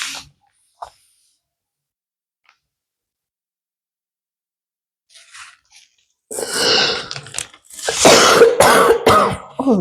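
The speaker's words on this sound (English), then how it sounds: "Oh, this cough." A few harsh, close coughs and throat-clearing bursts follow a long near-silent stretch with a faint click or two.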